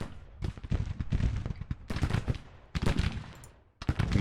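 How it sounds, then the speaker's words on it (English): Rapid bursts of booming cannon fire crackle in clustered volleys, loud and close, with brief gaps between salvos, in the Civil War strategy game Grand Tactician. "Okay, the cannons are firing."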